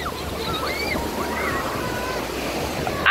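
Ocean surf at Santa Monica beach on a cold day, a loud continuous wash of waves with wind rush, steady throughout with a brief burst near the end and no talking.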